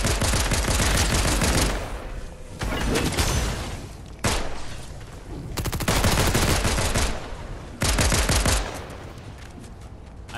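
Loud, sustained automatic gunfire from Fortnite rattles in long rapid bursts with brief gaps, dominating the mix.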